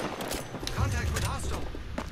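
Rapid video game gunfire from enemies shooting at the player rattles in bursts beneath continuous talking, with sharp cracks scattered through a busy background.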